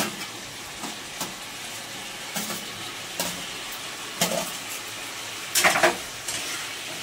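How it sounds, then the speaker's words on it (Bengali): Potatoes go into a pan of egg curry and are stirred over a faint, low sizzle, with scattered light clinks and scrapes of a utensil against the pan that grow a little louder toward the end. "এবারে আলুটা দিচ্ছি, দিয়ে ওর সঙ্গে একটু নাড়বো।"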